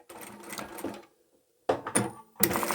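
A sewing machine stitches and backstitches the fabric of a small craft tote bag, running in short bursts: a longer run, a pause, then two quick runs close up.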